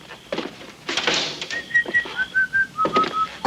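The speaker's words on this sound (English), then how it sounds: "Quit that whistling." A man whistles a short melodic tune, a series of clear distinct notes rising and falling in a steady rhythm, close by after some brief rustling and thumps.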